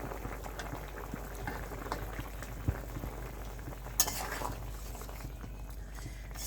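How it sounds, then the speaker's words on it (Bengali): Fish and pointed gourd curry simmering in a pan, Bengali style, as ground raw cumin paste is stirred in: a constant bubbling, gurgling hiss with a couple of faint utensil knocks. "একটু নাড়াচাড়া করে মিশিয়ে নিতে হবে যাতে মশলাটা সমস্ত ঝোলের মধ্যে পৌঁছায়"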